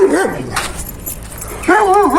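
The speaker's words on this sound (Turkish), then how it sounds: "Burada yine bir dişi köpek var" A dog barks and yips in short, close, loud bursts at the start and end, with a quieter pause between.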